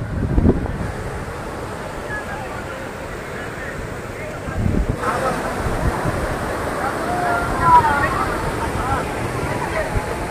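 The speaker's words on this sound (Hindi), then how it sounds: "वाटरफॉल में पहुंच चुके हैं भाई" Jogini Falls waterfall near Manali, a steady broadband rush of falling water with wind buffeting the microphone, a few thumps and faint crowd noise around it.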